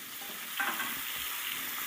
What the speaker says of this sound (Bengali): এবার ডিমগুলোকে ভেজে নেব